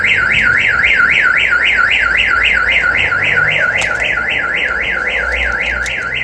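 Alfa 147 car alarm sounding loud and close, a continuous rapid warbling siren that rises and falls steadily throughout, with no voices over it.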